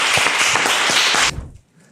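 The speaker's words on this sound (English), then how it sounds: "Round of applause, founder 2." Audience applause welcoming the second founder at a startup pitch event, a dense burst of clapping for over a second that cuts off abruptly into near silence.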